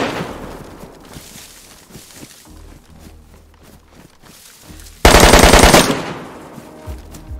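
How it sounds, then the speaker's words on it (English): Gunfire in the video game DayZ: scattered single shots, then a loud, rapid burst of automatic fire lasting about a second, followed by a final shot. "we started taking fire from the base owners."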